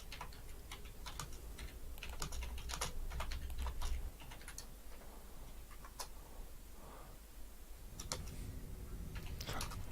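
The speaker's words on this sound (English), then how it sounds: "All I'm doing is typing." Fingers tap steadily on a computer keyboard nearby, with quick clusters of keystrokes and brief pauses over a low background hum and no speech.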